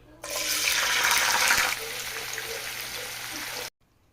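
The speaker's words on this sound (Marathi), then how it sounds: "आता आपण तळून घेणार आहे" French fries going into hot oil set off a loud, sustained sizzling hiss that swells and then settles to a steady, slightly softer crackle before cutting off abruptly, with no voices.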